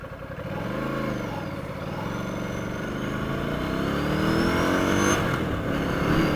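A scrambler motorcycle engine drones steadily while being ridden home, close and continuous with rising and falling revs and a brief higher whine near the end.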